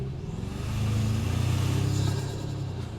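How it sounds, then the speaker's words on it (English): A Toyota Tacoma engine with a snorkel intake rises under acceleration, a steady low droning rumble that swells in the middle and holds near and fairly loud, with no talking. "Hopefully the sound of that snorkel comes through."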